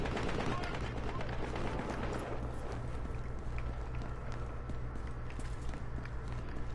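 Rapid pistol shots in a video game firefight ring out in quick succession over a constant low hum, with footsteps and a voice talking through the action.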